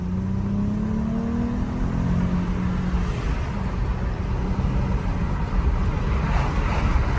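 An SRT car speeds through traffic with a loud, steady engine and road roar, a rising engine tone early on as it accelerates, and wind rush heard from inside throughout.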